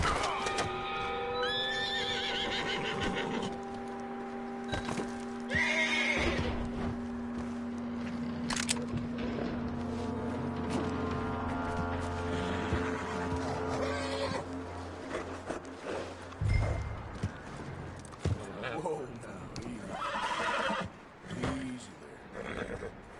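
A horse whinnies loudly near the start of a Red Dead Redemption 2 game scene, followed by snorts, hoof clip-clops and an animal roar, with a low droning hum and brief voices over the top.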